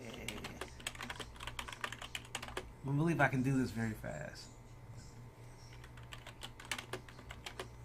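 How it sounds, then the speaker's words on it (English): Rapid typing on a computer keyboard, with a steady stream of close, light key clicks running throughout, briefly overlapped by someone speaking in the middle. "I'm typing up away."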